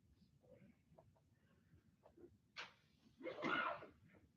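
A single sneeze bursts out in a quiet meeting room during a public-comment session, preceded by faint shuffling and soft background noise.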